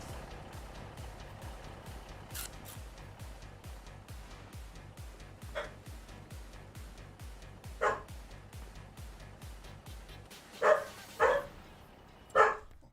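In Farming Simulator 25, dogs on a farm let out a few sharp barks, spaced apart and louder toward the end, over a steady, rhythmic chugging hum of machinery.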